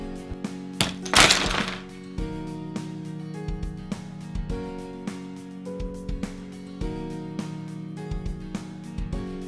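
Plastic Kenner Building Blasters toy pieces from 1989 are knocked down, giving a loud clattering crash early on, followed by scattered knocks and rattles of pieces over a steady background hum.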